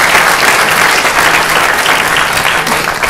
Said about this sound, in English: You can give her a little applause.